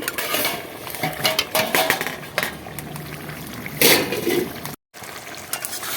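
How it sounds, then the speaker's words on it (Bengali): A pot of cooking meat being covered with a metal plate, with clattering metal contacts and scraping amid the bubbling of the pot, including one louder clank. "এবার আমি এটা একটা থালা দিয়ে ঢেকে দিচ্ছি"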